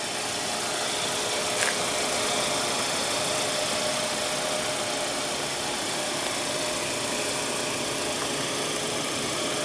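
A 2015 Hyundai Sonata's 2.4-liter four-cylinder engine idles close by, giving an even, continuous hum with a faint mechanical hiss and no voices.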